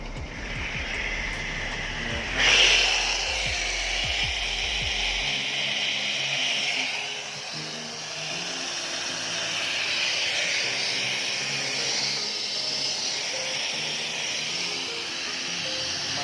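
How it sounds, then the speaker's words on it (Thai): Pressure washer or flushing spray working on the air-conditioning condenser of a 2010 Toyota Camry ACV50 hybrid, a steady broad hissing rush that begins after a brief low thump and continues evenly to the end. "ทำการล้างระบบแผงคอนเดนเซอร์ครับ"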